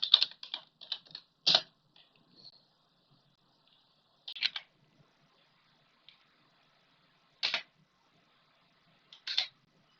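Keys clatter on a computer keyboard as a name is typed into VirtualBox for an Ubuntu install, a quick cluster of close taps followed by sparse isolated keystrokes amid quiet.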